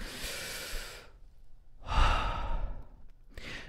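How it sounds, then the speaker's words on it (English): A person takes a deep, slow breath: a long airy inhale, a pause, then a heavier sighing exhale, close and quiet with a third breath starting at the end. "when I felt stressed, I would take a really deep, slow breath"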